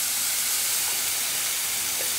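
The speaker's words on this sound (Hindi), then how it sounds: "इस प्याज को अब हम यहाँ पर सॉटे होने देंगे" Onions with ginger and green chili sautéing in a pan, a steady broadband sizzle and hiss that holds evenly throughout, close and unbroken with no voices.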